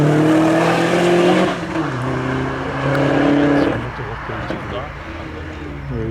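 A Honda Civic race car on a hill climb course, its engine droning with shifting pitch under continuous commentary, easing off and rising again as it drives past.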